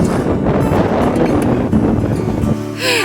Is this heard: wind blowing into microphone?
yes